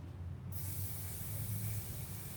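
A spray paint can held upside down to clear its tip lets out a sudden, continuous close hiss of escaping propellant that holds steady to the end.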